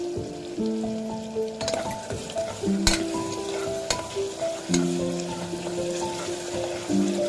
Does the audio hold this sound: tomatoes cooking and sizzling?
yes